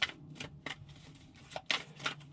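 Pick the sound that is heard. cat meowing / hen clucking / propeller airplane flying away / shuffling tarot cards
shuffling tarot cards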